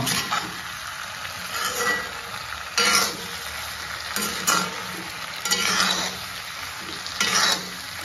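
Vegetables frying in a pan with a constant sizzle, broken by repeated loud scraping bursts of a spatula stirring every second or two, close and without talk.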